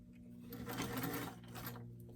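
A domestic sewing machine stitching down the seam of a small doll top whirs in a steady, quiet, fast mechanical run that swells slightly in the middle, with no talk over it.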